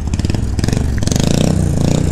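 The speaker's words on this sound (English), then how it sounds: "you hear my bike?" A motorcycle engine runs loud and close, with a dense, rough, steady drone and slight surging, as if revving, filling the whole stretch with no talk over it.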